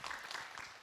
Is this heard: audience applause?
yes